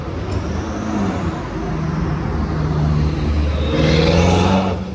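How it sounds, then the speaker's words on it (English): A BMW M5 fitted with a loud aftermarket exhaust rumbles steadily on a Marbella street at night, its engine note swelling louder toward the end, with broad traffic-like roar around it. "This is a BMW M5."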